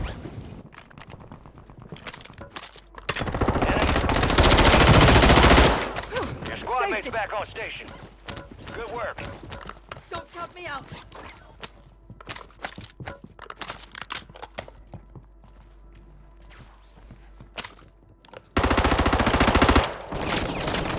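Automatic gunfire in a first-person shooter game comes in two loud, sustained bursts separated by a long stretch of scattered clicks, footsteps and shuffling, while players chat excitedly throughout.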